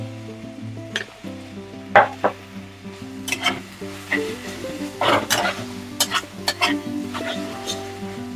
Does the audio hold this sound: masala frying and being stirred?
yes